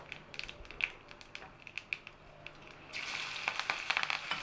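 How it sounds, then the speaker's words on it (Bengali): Nigella seeds and slit green chillies crackle in hot oil for a fish curry, faint scattered pops at first, then a louder, denser sizzle surges in partway through. "এখানে আমি কালো জিরে আর চেরা কাঁচা লঙ্কা ফোড়ন দেবো"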